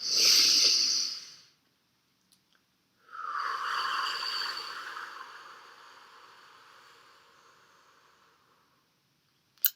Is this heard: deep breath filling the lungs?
yes